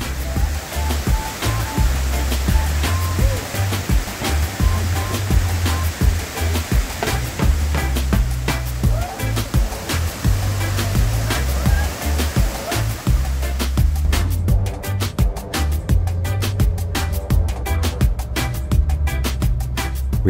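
Continuous roar of falling water at the Benang Stokel and Benang Kelambu waterfalls in a Lombok forest, a dense steady rush with deep low rumble, close and loud throughout.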